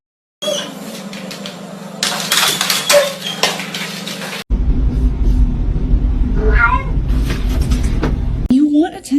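A house cat meows and yowls up close in several drawn-out cries, mixed with clattering household noise and a person talking over it.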